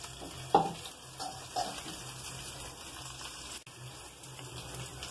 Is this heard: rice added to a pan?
yes